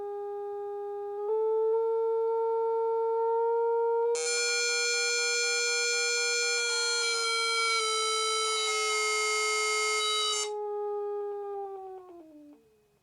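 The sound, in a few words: theremin switching to square wave tone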